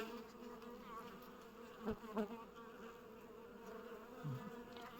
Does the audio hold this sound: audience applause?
no